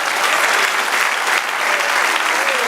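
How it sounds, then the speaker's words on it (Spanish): Dense, loud applause from a church congregation during a worship service, steady clapping that continues without a break throughout. "Denle otro aplauso al Señor."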